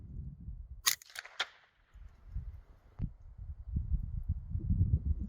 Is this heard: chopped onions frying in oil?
no